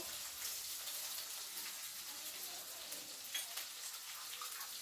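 Moong dal crackles and sizzles in hot tempering oil in a home kitchen pan while upma is being made: a steady, soft hiss with fine popping that continues throughout, with no talking.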